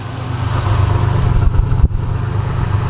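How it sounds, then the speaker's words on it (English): Exhaust of an old junkyard Buick with a rebuilt fuel injection system idling, a steady low rumble held close and loud without interruption for the whole stretch. "Let's listen to the exhaust."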